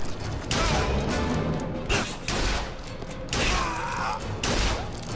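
Enemy shotgun blasts ring out in BioShock Infinite's Burial at Sea, several loud booming shots at irregular intervals amid clattering combat noise.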